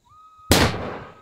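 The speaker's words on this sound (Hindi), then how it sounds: "चंद्री डर गई पटाखे की आवाज सुन के।" A firecracker bursts once, close and loud, with a sharp crack that trails into a short rumbling decay outdoors.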